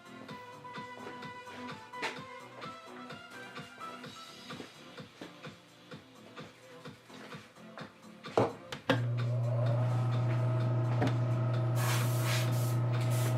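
Car paint is airbrushed or sprayed onto an anime model kit. Scattered handling clicks and rustles come first, then a loud continuous spray hiss with a compressor-like hum starts and holds steadily to the end.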